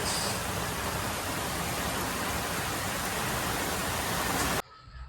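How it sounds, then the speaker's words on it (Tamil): Heavy rain pours down in Chennai as a dense, loud, continuous hiss that stops abruptly near the end, leaving quieter background sound. "மழை வேற லெவல்"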